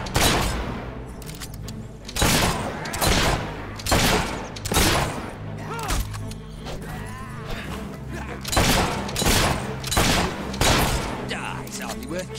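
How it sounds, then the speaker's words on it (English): Rapid bursts of gunfire in the video game Fable 3, with repeated loud cracking shots and booms in dense clusters, overlapping a voice and in-game battle noise. "That shooting will kill you"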